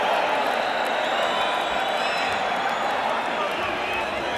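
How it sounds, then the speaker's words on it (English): Boxing arena crowd at a Mike Tyson versus Steve Zouski fight, a steady dense wash of applause and cheering throughout, loud and continuous, with commentary talking over it. "the crowd is applauding the courage of Steve Zouski"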